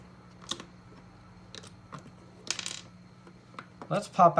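Buttons being popped out of a disassembled DualShock 4 controller: a few sharp plastic clicks and snaps spaced irregularly, ending in a louder cluster of handling clatter, close and with no talking.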